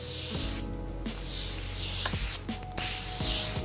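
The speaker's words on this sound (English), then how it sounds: "This is the Morphe Continuous Set and Prime Spray." Morphe Continuous Set and Prime Spray misted over a made-up face, heard as several soft, close hissing spritzes with brief gaps between them against a faint background.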